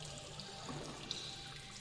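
A waterfall rushes in the Shadowgate PC video game, a steady, dense watery roar heard alone at moderate level with no talking.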